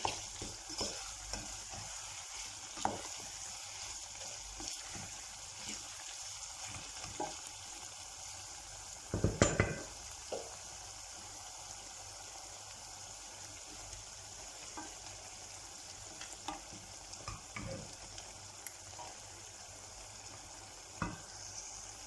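Rice and meat sautéing in a pot for pilaf, a soft continuous sizzle under repeated stirring scrapes, with a louder clatter of the spoon near the middle, no talking.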